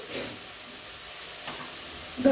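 Masala paste stirred and fried in a pan for a brinjal masala dish gives a soft steady sizzle with faint scraping stirs, under a person talking, with a louder burst of sizzling at the end.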